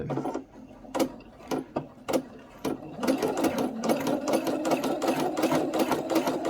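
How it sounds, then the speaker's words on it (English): A sewing machine runs a straight stitch at a short stitch length, with fabric on organza and net being moved freely. It starts with a few short separate bursts, then settles into a steady, fast, close mechanical chatter. "I'm just going to do straight stitch, and I've got it on stitch setting of about 2"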